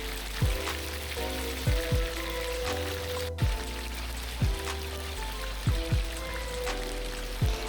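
Chicken wings fry in cooking oil in a pan with a continuous crackling sizzle, and soft low thumps recur at irregular intervals beneath it.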